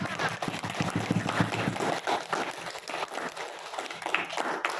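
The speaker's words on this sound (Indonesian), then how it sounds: "Ibu ingin minta tepuk tangannya untuk kita semua hari ini ya." A classroom of students applauds together at the end of a geography lesson, a busy, irregular patter of clapping that is moderately loud, with some voices mixed in.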